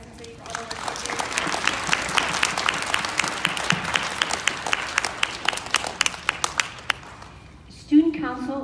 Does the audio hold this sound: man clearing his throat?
no